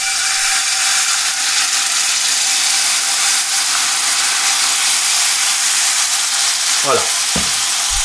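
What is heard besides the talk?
tuile lace batter sizzling in a hot non-stick frying pan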